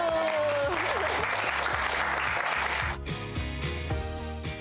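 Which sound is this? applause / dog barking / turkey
applause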